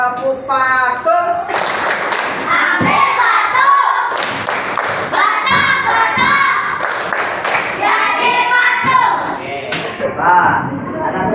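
Children in an Indonesian classroom clap a rhythmic chant, bursts of hand claps and thumps mixed with young voices calling out, loud and close throughout.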